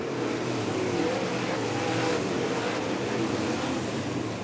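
Dirt track race cars roar around the oval at Fairbury in a steady, loud, continuous engine drone with no breaks or voices over it.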